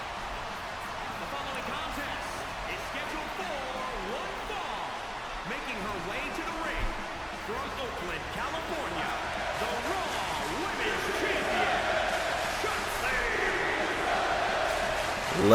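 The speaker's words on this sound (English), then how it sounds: "Listen to this crowd chanting that Shotsi deserves it" Video game crowd in WWE 2K22 Universe Mode, a steady dense roar of many voices chanting and cheering throughout, swelling slightly toward the end.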